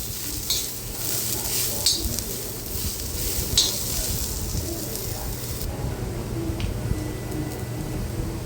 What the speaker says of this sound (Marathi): आता कांदा आपण चांगला भाजून घेऊया तेलामध्ये